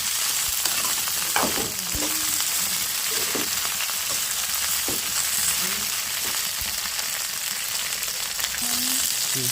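Okra frying in oil in a pan for a masala curry, a loud continuous sizzle with occasional stirring clinks and scrapes throughout.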